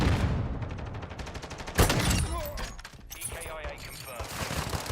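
Video game gunfire crackles in rapid bursts and volleys, with one sharp loud blast partway through, continuing alongside in-game radio chatter and voices.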